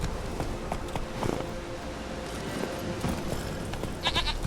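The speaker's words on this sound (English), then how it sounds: "Here, goat." A goat bleats in The Witcher 3 video game, faint and brief, coming over steady ambient game sound with soft footstep-like taps.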